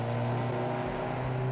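A 1995 Ferrari 355 Berlinetta replica in the Automation driving game cruising slowly, its engine a steady, smooth hum throughout with no revving.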